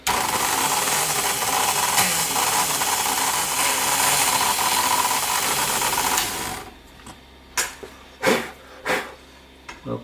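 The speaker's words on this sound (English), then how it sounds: "I'm also using a cutter from StewMac that is specifically designed for inlay work, so it cuts downwards like a downward spiral" A StewMac downward-spiral inlay cutter routing a celluloid pickguard from a 1962 Stratocaster gives a loud, steady whine for about six seconds, then stops, leaving a few sharp clicks and knocks.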